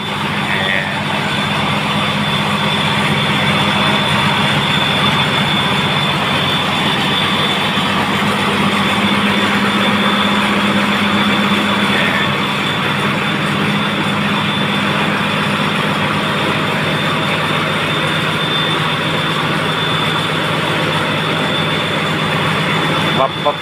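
A combine harvester climbing onto a ten-wheel truck, its engine a loud, steady drone with a constant low hum and broadband roar throughout, with no clear change in pitch.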